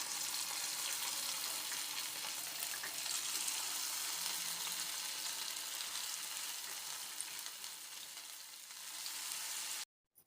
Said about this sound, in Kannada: ಎಣ್ಣೆ ಕಾದಾದಮೇಲೆ ಒಂದೊಂದಾಗಿ ಬಿಡಿ ಬಿಡಿಯಾಗಿ ಎಣ್ಣೆಯಲ್ಲಿ ಹಾಕ್ತಾ ಇದ್ದೀನಿ